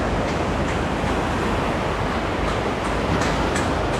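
Ocean waves surge against a sea wall at Wollongong, a continuous loud broadband wash of surf with some wind noise across the microphone and no talk.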